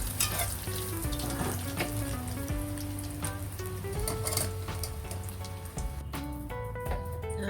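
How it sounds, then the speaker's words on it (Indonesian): Onions and other ingredients fry in a pan, a continuous crackling sizzle with scattered pops and scraping stirs, with music playing underneath. "langsung wak campur bawang sekali wak goreng"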